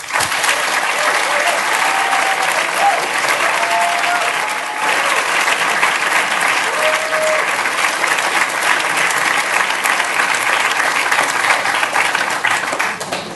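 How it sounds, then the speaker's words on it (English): An audience applauds after a student's Shark Tank-style pitch at Babson, a dense and steady round of clapping that holds for over ten seconds, fairly loud and even. "why is everybody applauding?"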